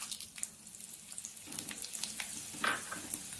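Dry red chillies fry in hot oil in a pan while tomato rasam is being tempered after mustard seeds. The sizzle is soft and steady, with a brief brighter crackle near the end and no voices.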